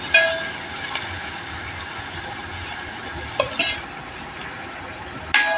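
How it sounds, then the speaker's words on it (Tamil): Onions with chilli powder being sautéed in oil in a pan: a continuous low sizzle broken by a few scraping stirs and metallic knocks, close by. "நம்ம கொஞ்சம் கிண்டி விட்டு கொஞ்சம் நல்லா வெங்காயம் பொன்னூரெல்லாம் வர்ற அளவுக்கு வதக்கிக்கிறணும்"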